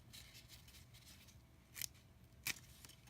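Scissors cut through the stem of an orchid infected with black spots, making two crisp close snips about a second apart against a quiet background, with no talk.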